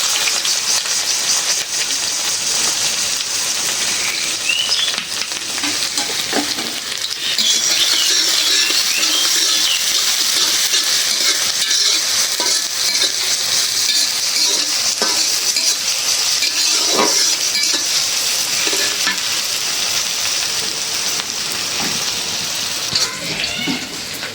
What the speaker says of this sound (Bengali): ভালো করে ভাইজা নিলাম